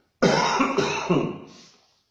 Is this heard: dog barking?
no